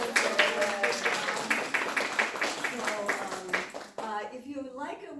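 Audience clapping after a Korean culture class performance, a fairly rapid, steady patter of several people's hands lasting about four seconds, then a voice speaking as it fades.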